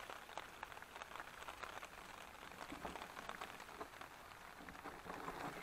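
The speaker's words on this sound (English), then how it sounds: "I love it when we get rain, because here in Arizona we really need the moisture." Heavy rain pours down onto a shelter in Arizona, a steady dense patter of drops with scattered sharper taps, close and continuous throughout, with no talking.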